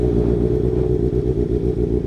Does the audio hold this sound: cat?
no